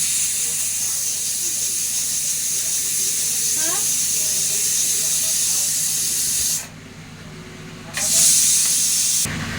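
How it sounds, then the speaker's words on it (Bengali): A pressure cooker cooking mutton curry lets off a loud, continuous steam whistle and hiss. It drops away briefly near the end, then bursts back in strongly. "এবার প্রেশারে সেটা লাগিয়ে দিয়ে এবার সিটি দেব 5টা থেকে 6টা"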